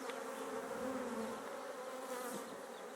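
Honeybees buzz steadily in an opened hive, a dense, continuous drone that stays close and fairly loud throughout, with no talking.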